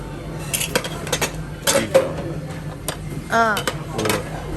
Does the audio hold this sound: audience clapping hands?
no